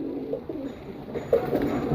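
A male pigeon coos from close by in a loft of paired breeding pigeons, giving a low soft rolling call that swells briefly near the end.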